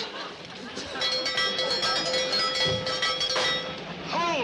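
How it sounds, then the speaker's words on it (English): A train runs on its rails with a steady rumbling clatter and metallic squeals and clinks, loud and continuous, with faint voices in the background. "Will you stop this train?"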